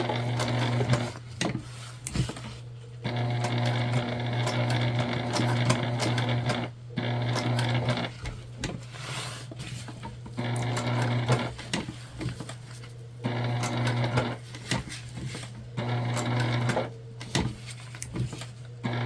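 A Juki sewing machine stitches slowly around the curves of a structured bag, its steady hum broken by frequent short stops and restarts as it advances stitch by stitch.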